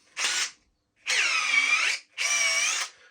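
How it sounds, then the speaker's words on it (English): A power drill fitted with a Chinese drill bit whirs loudly in three separate bursts, each run lasting about a second with brief silent gaps between, close and alone without talk. "Let's try it with this drill"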